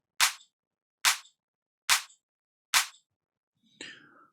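Two layered house kick drum samples sound together as four sharp, snappy hits at an even pace, loud and dry. A softer, differently textured hit follows.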